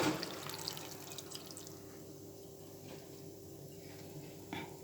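A tea glass of water poured into a pot of sugared damson plums for homemade jam, a soft trickling splash near the start that fades into a quiet, steady wash.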